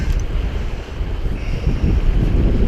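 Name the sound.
wind blowing by a river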